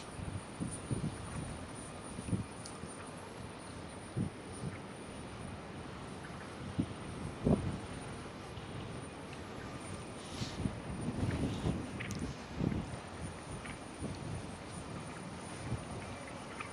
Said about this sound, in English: Wind was blowing my tripod over.